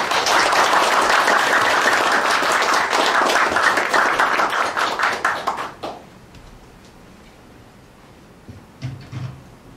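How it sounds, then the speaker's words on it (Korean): Audience at a court IT lecture in Changwon claps to welcome the speaker, a loud, dense burst of applause that fades out after about six seconds, leaving quiet room tone with a few faint knocks. "강사님을 뜨거운 박수로 맞이해 주시기 바랍니다."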